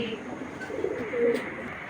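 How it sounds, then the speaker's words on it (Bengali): Low, soft cooing of pigeons, including grizzle pigeons, murmurs nearby, a rolling throaty call that swells briefly over faint background noise. "নটটা প্রচুর ছটফটে কবুতর"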